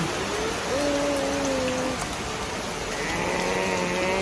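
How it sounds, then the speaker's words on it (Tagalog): Steady rain falls in a constant, dense hiss throughout, with faint tonal voices or calls drifting over the wash of drops. "At naulan na ulit."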